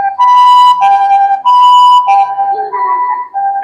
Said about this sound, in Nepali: यहाँ चाहिँ यो एम्बुलेन्स यसरी आउँदाखेरि चाहिँ सबै गाडीहरू जस्तो कन्डिसनमा रोकिनै पर्ने हुन्छ